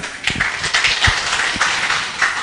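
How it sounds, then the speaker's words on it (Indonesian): Audience applause after a presentation on livestock diseases in the rainy season, a dense, fairly loud patter of many hands with a few sharper claps standing out, no speech over it. "Tepuk tangan untuk Bapak Ibu sekalian"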